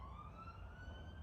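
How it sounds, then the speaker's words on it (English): Police car siren passing by outdoors, a faint wailing tone that rises slowly over a low, rumbling background of traffic noise. "especially with that police car that walked past"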